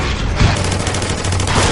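Sustained rapid gunfire rattles through a dark film fight scene, loud and dense, with a heavy boom near the start.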